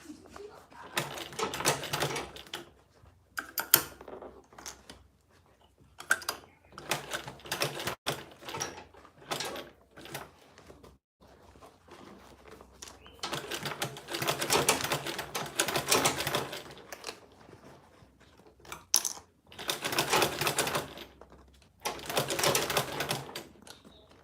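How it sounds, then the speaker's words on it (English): A sewing machine stitches the corner of a fabric tote bag in short, rattling mechanical bursts separated by pauses, close and moderately loud. "So yeah, sewing the corner now."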